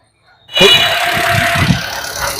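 A car engine under an open bonnet starts up abruptly and then runs steadily nearby, a loud rumbling idle with a faint whine, heard clearly and unmuffled.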